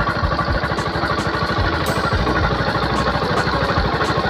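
A motorcycle engine idles after Jet 1 Extreme Oil treatment, a steady close-up rhythmic putter with fine mechanical clatter, running alone and evenly throughout.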